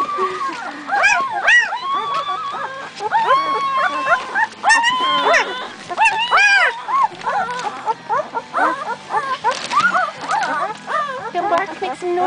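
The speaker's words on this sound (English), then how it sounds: "Come bark, make some noise again." Small dog or puppy close by, giving repeated high yips, short barks and whimpers in an uneven run, with quiet background sounds.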